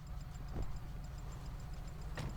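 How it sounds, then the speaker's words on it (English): Faint, quick ticking runs through a low car engine hum in a video game, with a couple of soft thumps; the tapping is light and close. "engine's doing a lot of tapping"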